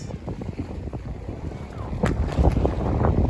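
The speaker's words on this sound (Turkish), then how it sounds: "Rüzgar biraz hafifledi." Wind gusts buffet the microphone at a fishing pier by the water, producing a loud, rumbling rush that swells and strengthens toward the end.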